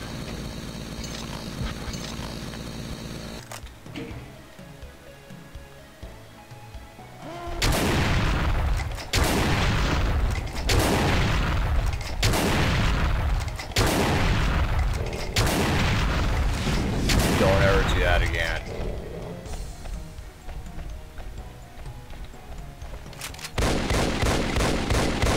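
Rapid gunfire from the video game Doom 2, played on a Jenesis level with the Complex Doom mod, comes as a loud, dense string of repeated shots and booms with a few quieter gaps, with no talking.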